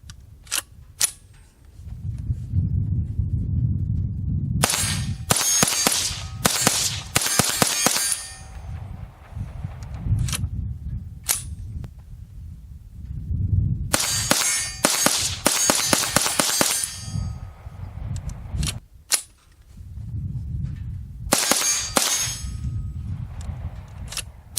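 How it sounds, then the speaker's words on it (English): AR-57 rifle firing 5.7x28 mm rounds at steel targets, with sharp shots in quick clusters, each followed by a bright metallic clang, separated by gaps of low rumbling background. "now we're going to show you some video of us shooting this gun"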